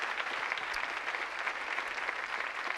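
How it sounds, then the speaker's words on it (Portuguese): A church congregation claps together in a dense, even wash of sustained applause that holds steady from start to finish. "Podemos aplaudir a Deus pela vida dele."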